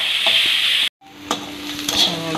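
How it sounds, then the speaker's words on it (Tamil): Onions deep fry in hot oil with a bright, steady bubbling hiss that cuts out briefly, then resumes with a few clinks and scrapes of a utensil, close and fairly loud with no voices. "வெங்காயம் நல்லா டீப் ஃப்ரை"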